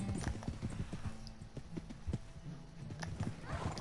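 Horse hooves clip-clop at a steady walking rhythm in Red Dead Redemption 2, fairly close and clear, with a brief whinny-like note and low game ambience underneath.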